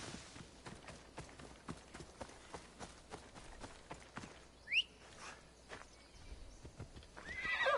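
A horse in the Assassin's Creed Odyssey video game walks with a steady clip-clop of hooves and gives a sharp neigh partway through, with a louder whinny near the end; the sounds are crisp and close, with no talk.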